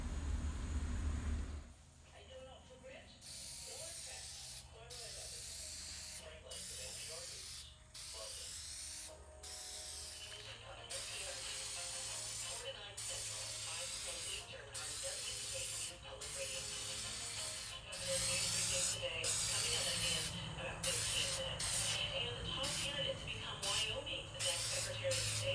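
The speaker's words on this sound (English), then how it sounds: "Here's a spray I'm using." Repeated bursts of aerosol spray paint hiss while refinishing a 1949 DuMont 15-inch television, short sprays with brief pauses, close up, over a steady low background hum.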